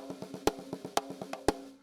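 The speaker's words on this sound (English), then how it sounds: "a correct paradiddle is supposed to sound like this" Quick drum strokes in a paradiddle pattern, each group of four opening with a louder accented hit followed by three softer taps, close and dry.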